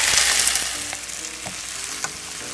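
Leftover lechon frying with browned garlic and onion in a pan, a loud continuous sizzle that eases slightly as a utensil scrapes and taps through it, no speech.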